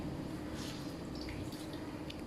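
Water dripping and trickling from ketapang leaves being squeezed by hand, faint and close, with small irregular splashes and soft liquid patters over a quiet background.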